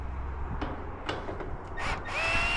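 A power drill fitted with a 1/4-inch socket bit backs screws out of a roof cap near a chimney, in short whirring bursts that rise into a longer whine.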